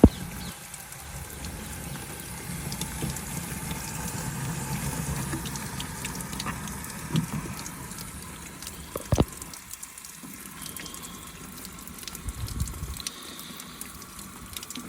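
An outdoor garden tap fills a watering can with a continuous close rush of water, its tone shifting as the can fills, with a few knocks and a short pause in the flow near the end.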